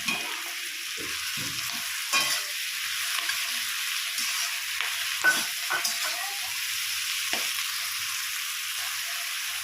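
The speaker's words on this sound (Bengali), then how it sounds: "এটা আমি এইভাবে 4 থেকে 5 মিনিট নাড়াতে থাকবো" A fish-head and cabbage curry stirred in a pan with a spoon, giving steady faint sizzling and frying hiss broken by scraping, clattering stirring strokes that come close and fairly soft, with no talking.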